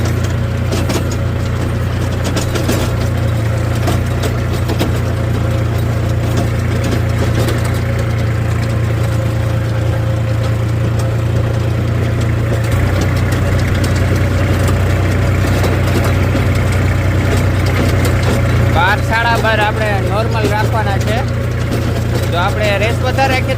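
A New Holland 5510 4WD tractor drives a rotavator, its diesel engine holding a steady, loud low drone throughout with continuous mechanical clatter; a voice talks over it and a brief warbling sound appears near the end.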